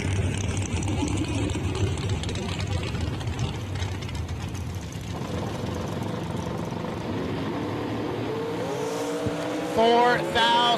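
Drag racing cars, a Roadster and a Rad Torque Systems machine, at a Woodburn, Oregon track, with a steady loud engine roar and mechanical rattle throughout, plus a rising whine near the end, heard from a distance with faint crowd or announcer noise.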